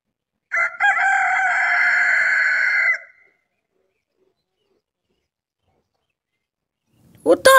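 A rooster crows once, loud and close, holding a long note for over two seconds, followed by silence and a brief burst of speech at the end.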